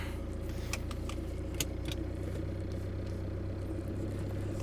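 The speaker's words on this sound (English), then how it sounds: "Start the car up." A 2023 SsangYong Musso pickup's engine running at a steady low idle, with a few light metallic key jingles near the start over the continuous rumble.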